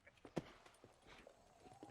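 Horse hooves clip-clop in Red Dead Redemption, a few irregular, fairly quiet hoofbeats under faint background game sound.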